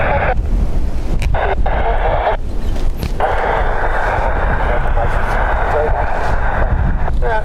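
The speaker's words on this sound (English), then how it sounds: "the wind is steady, upwards of 25 knots" Strong, steady wind above 25 knots roars continuously across the microphone at Dublin Airport, a loud, dense rush with gusty buffeting throughout.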